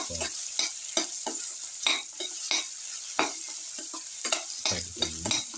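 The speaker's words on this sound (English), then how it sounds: "keep on stirring, salt and let the mixture cook for" Cumin-spiced winter melon and yogurt mixture stirred in a hot pan, a spoon scraping and clinking in repeated strokes over a steady close sizzle, with no voices.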